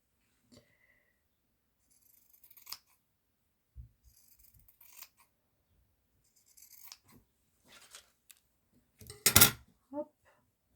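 Scissors cutting material in a few scattered snips, quiet and close, with pauses, light handling noises and soft breathing between cuts.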